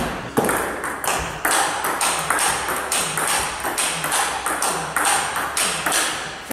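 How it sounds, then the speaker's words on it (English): Table tennis ball striking a Donic Bluefire M1 rubber during strong topspin rallies: a regular back-and-forth of sharp pings and taps, about one per half second, in a reverberant hall with faint background noise. "You can hear the ball digging into the sponge on the topspins."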